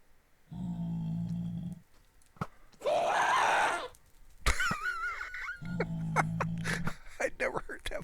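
Minecraft Java 1.15.2 mobs around a zombie villager and spider spawner let out harsh, drawn-out game screams and groans in several separate bursts, interspersed with sharp clicks and effects.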